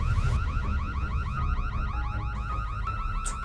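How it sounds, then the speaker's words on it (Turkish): A car alarm wailing continuously in a rapid rising and falling pattern, loud and close, repeating steadily throughout with no voices. "Alarmı da siz mi çalıştırdınız yoksa?"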